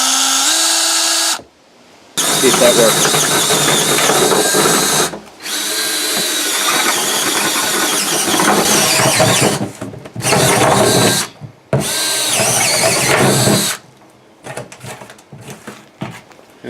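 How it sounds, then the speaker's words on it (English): A power drill fitted with a 1-inch spade bit bores drainage holes through a plant pot in several loud, close bursts separated by short pauses, with a brief spoken remark near the end. "Little 1-inch spade drill bit."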